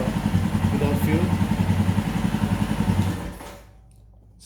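A Royal Enfield Himalayan motorcycle engine runs steadily and loud just after starting, with a rhythmic thumping idle that holds for about three seconds, then cuts off into near silence.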